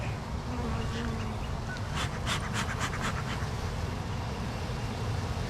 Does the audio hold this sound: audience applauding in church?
no